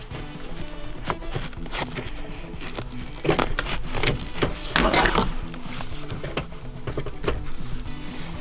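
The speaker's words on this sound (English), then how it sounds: "All we have to do is use a pry tool. Pry it up from underneath and then we should be able to pull this off completely." A pry tool works a Toyota Tacoma wiring harness loose near the seatbelt and airbag module, producing scattered close clicks and scrapes, with a denser cluster of sharper snaps midway.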